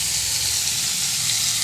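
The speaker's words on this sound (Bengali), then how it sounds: "এবার ওই তেলের ওপরে ফুলকপিগুলো ছেড়ে দিলাম।" Cauliflower florets hiss and sizzle steadily in hot oil in a pan, a loud, dense, continuous frying noise up close with no talking.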